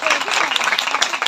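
A church gathering breaks into applause, a lively ragged patter of many hands clapping at close range with a few louder claps standing out.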